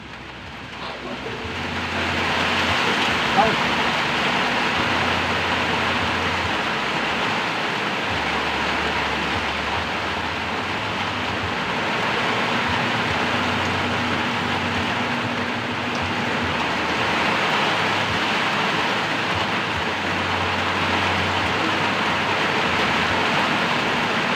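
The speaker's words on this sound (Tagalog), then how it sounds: "Malakas na naman ang ulan, oh. Uulan na naman." A dense, steady hiss of heavy rain runs throughout, with low engine-like hums coming and going underneath.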